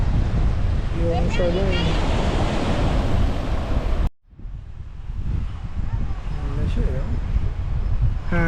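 Strong wind buffets the microphone at a Pacific coast campsite, a loud steady roar with surf-like rushing that cuts out briefly midway, while people talk over it.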